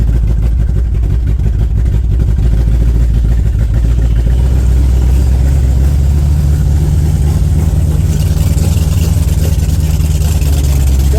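A Ford 302 V8 car fitted with a Holley Sniper, running rough as it drives: a loud, steady, close engine drone with an uneven, rumbling low end that continues throughout.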